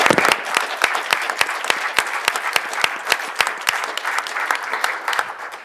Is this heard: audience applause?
yes